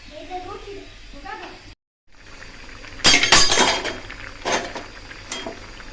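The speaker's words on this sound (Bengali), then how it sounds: "চেনিটা হাত থেকে পড়ে গেছে" A kitchen utensil slips from a hand in a home kitchen where a fish curry is simmering, landing with a sudden loud clatter and clink of metal on glass, scattered hits trailing off, after quieter background sounds and a brief dropout.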